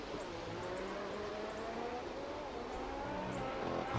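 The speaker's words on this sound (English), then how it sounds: "I heard his engine go down a little bit" A racing car's engine in a racing video game, heard as a steady mid-pitched drone with a faint easing in revs, continuous and moderately loud, with no clear speech.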